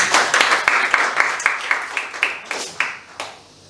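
Church congregation claps during a Sunday worship service, a loud sequence of sharp, fairly distinct claps in a loose rhythm that thins out and fades toward the end.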